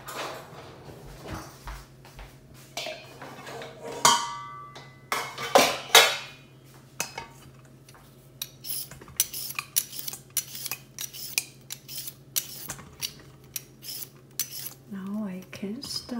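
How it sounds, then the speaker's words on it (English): A cucumber being peeled in a home kitchen: a run of short, dry scraping strokes, close and fairly quiet, coming in quick irregular bursts with brief pauses, no voices. "Peel the cucumber."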